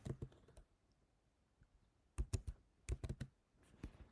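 Bursts of typing on a computer keyboard, close and quiet, come in short rapid clusters of key clicks separated by brief pauses.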